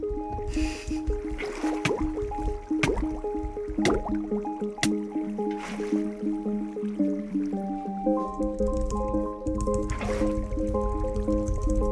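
Water being placed in Minecraft, a run of soft liquid drips and squishy splashes repeating at an irregular pace, close and clear over a steady bed of background game music with sustained tones.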